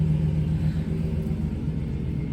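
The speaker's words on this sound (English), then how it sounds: "He's ready to take off in his pickup truck." A neighbor's pickup truck drives off outside, its engine a steady low rumble at moderate distance, fairly quiet and with no one talking.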